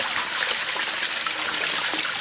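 A 3,700 gallon bilge pump pushing water through a prospecting sluice, a continuous rushing gush of flowing water, close and steady with no voices.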